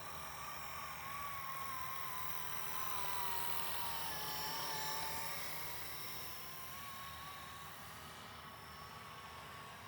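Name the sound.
Blade Eclipse 360 RC helicopter flying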